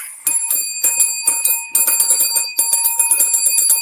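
A show's celebratory bell rings in rapid repeated bursts, bright metallic trills pulsing in uneven groups for several seconds, loud and close with no talking.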